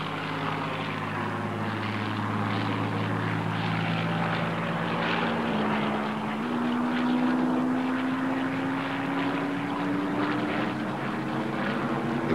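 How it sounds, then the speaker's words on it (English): A Hawker Hurricane fighter with a Rolls-Royce Merlin engine drones past, a steady propeller roar whose pitch slowly rises across the pass, loud and continuous from start to finish. "Here's the Spitfire's sister, the Hurricane. And again, almost the same note, but not quite, from the same Merlin engine."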